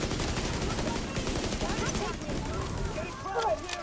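Rapid gunfire from a video game shooter with an M700 rifle in play, dense bursts of shots crackling continuously under a steady background of talk.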